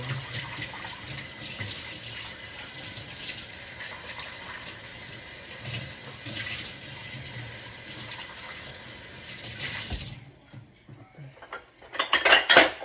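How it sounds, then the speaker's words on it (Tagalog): Running tap water splashes into a sink for a long stretch while a large metal wok is scrubbed and clatters; the flow stops, then sharp clanks ring out. "So ito guys yung kawali na aking huhugasan pagkalaki"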